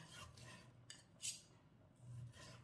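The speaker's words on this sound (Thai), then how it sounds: "แล้วก็ไปหั่นหมูกันเพื่อนจ้า" A knife slices through pork belly in a home kitchen, making a few faint, soft scraping and tapping strokes against the board with no one talking.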